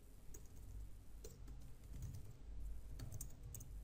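Keys clatter on a computer keyboard in quick, uneven bursts of clicks, close and fairly quiet, alone without speech.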